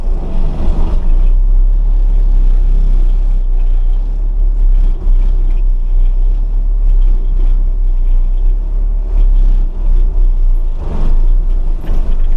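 A plate compactor runs on a rock-covered gravel driveway, a loud, steady low engine drone with constant vibration and rough rumbling texture, close by and continuous throughout with no talking.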